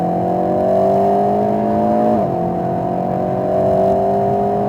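An Alpine A110S engine holds a steady high-revving drone at full throttle on a racetrack, briefly dipping in pitch midway as it shifts, then climbing again, loud and close.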